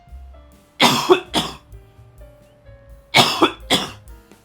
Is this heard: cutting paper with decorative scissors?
no